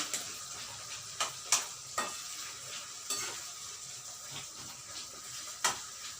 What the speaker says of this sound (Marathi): कांदा चांगला लाल होत आहे आता।